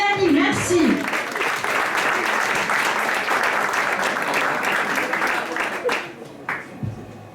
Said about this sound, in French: On applaudit Mélanie, merci.